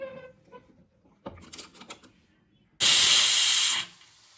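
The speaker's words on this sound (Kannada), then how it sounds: "ಲಿಡ್ ಕ್ಲೋಸ್ ಮಾಡಿಕೊಂಡು 2 ಇಲ್ಲಾಂದರೆ 3 ವಿಸಿಲ್ ಹಾಕೊಳ್ಳಿ" A pressure cooker of rava pongal releases a loud, sustained hissing whistle of about a second, preceded by some soft clattering and handling noises.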